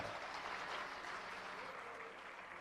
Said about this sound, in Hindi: आइए जोरदार तालियों से सर का स्वागत करें